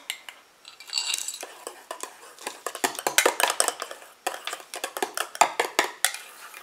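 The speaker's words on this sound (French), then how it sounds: "Je mélange comme d'habitude après chaque jour." A homemade hair conditioner mixture is stirred in a container, producing quick irregular clinks and scrapes of a utensil against the vessel, close and fairly loud with no talk.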